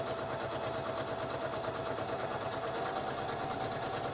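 A sewing machine runs steadily while stitching a quarter-inch seam on a petticoat, a continuous close whirring hum with a fast rhythmic needle chatter and no pauses.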